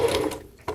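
A sewing machine stitching a dog coat hums and rattles in a short mechanical burst close by, stops briefly, then starts again.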